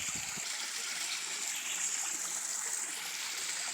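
Spring water pouring straight out of rock in a wooded setting, a steady close rush and trickle with no breaks, fairly quiet and alone.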